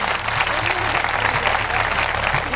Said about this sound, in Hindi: एक बार उनके लिए जोरदार ताली से अभिवादन करें।